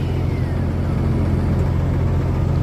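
A truck pulling a trailer on its way to a rock quarry hums along with a steady, close mid-pitched engine drone and road noise.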